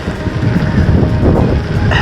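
Steady wind roar buffets a microphone while cycling into a headwind on a modified bicycle, a dense low rumble filling the whole stretch with no talk.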